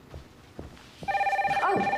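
Telephone ringing in a movie scene: after a few soft knocks and rustles, a loud electronic ring with a steady trilling pulse starts about halfway through and continues to the end.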